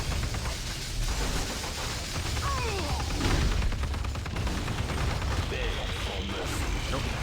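Minigun in the Marvel Heroes video game firing a steady, dense mechanical rattle of rapid shots that runs unbroken throughout, mixed with game noise at moderate level.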